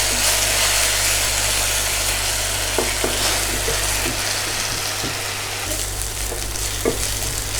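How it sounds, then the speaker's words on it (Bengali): Onion, garlic and ginger paste frying in a pan, a loud continuous sizzle with a few scraping stir strokes and a low hum underneath, nearby and without talk. "এবার পেঁয়াজ রসুন ভাজা ভাজা হয়ে হচ্ছে।"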